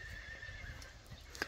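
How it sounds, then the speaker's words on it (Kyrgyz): A horse in Nookat, Kyrgyzstan, whinnies, with a brief sharp neigh near the end over steady low outdoor rumble. "Сөөктүү ат экен"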